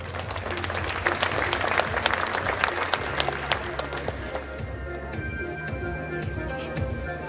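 Applause fills a sports gala hall, with dense, sustained clapping from a large crowd throughout and a low background hum underneath.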